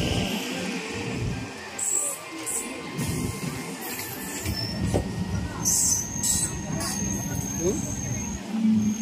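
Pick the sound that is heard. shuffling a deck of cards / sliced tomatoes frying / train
train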